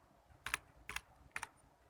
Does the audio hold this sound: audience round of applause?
no